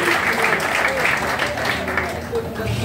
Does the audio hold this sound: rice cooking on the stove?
no